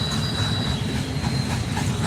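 A double-stack intermodal freight train rumbles steadily past trackside in West Virginia, a heavy low roar with a faint high metallic whine running over it, continuous and close.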